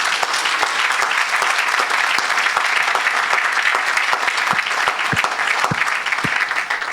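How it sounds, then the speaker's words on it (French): A church congregation at a Saturday service applauds in sustained, loud clapping that fills the whole stretch, with a few sharper individual claps standing out near the end. "acclame pour Jésus-Christ"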